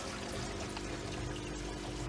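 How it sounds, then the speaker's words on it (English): A pond pump draws water out of a garden pond into a barrel filter, making a steady, continuous pouring rush that holds even and fairly loud from start to finish. "But it's pulling water out of the pond."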